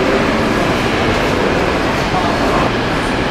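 A Southeastern train bound for Ashford International stands at a busy station platform, giving off a loud, steady rumble and hiss without clear breaks.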